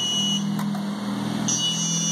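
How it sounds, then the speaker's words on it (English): A high electronic buzzer on an Intel Galileo Gen 2 board sounds continuously over a low steady hum, with a brief break midway before it resumes. "I can make the buzzer ring you can hear the buzzer being sounded"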